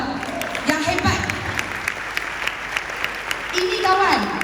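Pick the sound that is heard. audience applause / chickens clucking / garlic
audience applause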